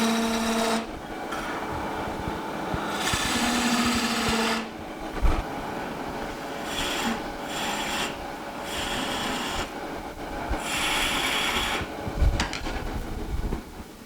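Wood lathe spinning a spindle while a turning tool cuts wood: a rough, scraping rasp in repeated bursts over a steady motor hum, fairly close and loud, with no talking.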